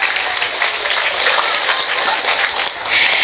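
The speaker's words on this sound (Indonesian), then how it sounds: "Siap-siap tepuk tangan dulu buat Pak Lurah." An audience at an Islamic religious gathering applauds the village head, producing a full, fairly loud patter of many hands clapping throughout, swelling slightly at the end.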